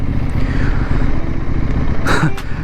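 A CFmoto 800NK motorcycle being ridden, its engine giving a loud, close, steady low rumble with a short burst of wind or road noise near the end.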